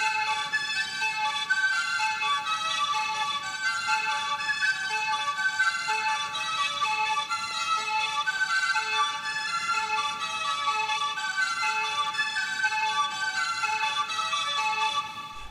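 Bright synth lead arpeggiating up and down a scale, played in by hand with slightly uneven timing, forming a steady, moderately quiet melodic pattern throughout with no voices.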